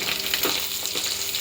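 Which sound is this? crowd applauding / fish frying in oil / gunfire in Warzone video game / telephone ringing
fish frying in oil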